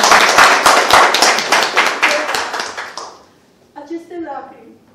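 An audience applauds at a Romanian book and audio launch event, dense rapid clapping that is loud at first and then thins and fades out, followed by a short burst of speech.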